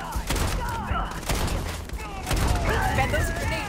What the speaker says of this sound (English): Throw in several grenades! Come on, throw another one!